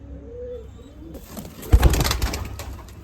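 Imported UAE racing pigeons kept in Nashik Road coo in low, rolling calls, then a burst of rustling and wing flapping takes over, close and fairly loud.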